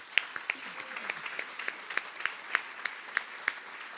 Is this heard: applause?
yes